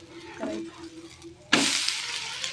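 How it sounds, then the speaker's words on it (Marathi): Dhapate flatbread roasts with oil on a dosa griddle, starting with quiet faint stirring, then a sudden loud sizzle that keeps hissing steadily. "तेल टाकून घ्यायचं असं आणि याला दोन्ही बाजूने असं चांगलं भाजून घ्यायचं"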